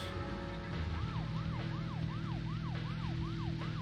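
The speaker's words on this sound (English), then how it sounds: "Your heartbeat doesn't go up when you hear police sirens?" A wailing police siren from the video game Deadly Premonition Origins, rising and falling in rapid regular sweeps over a low engine hum, steady and moderately distant.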